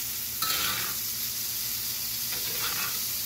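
A steak fries in butter in a cast iron pan while being basted, giving a steady, close sizzling hiss with two short louder surges as hot butter is spooned over. No talking.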